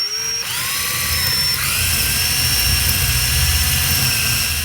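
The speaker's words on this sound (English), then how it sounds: "we can now actually drill down to the depth we need using a hand drill" A hand drill whines at high speed into a desk through a pre-marked hole, a steady loud motor tone that starts abruptly and holds pitch with a slight shift partway through.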